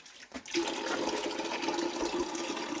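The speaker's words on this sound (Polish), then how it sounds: "Teraz lejemy wodę" Water pours steadily into a container for chickens, a continuous, moderately loud splashing rush that starts after a short knock and runs to the end with no talk.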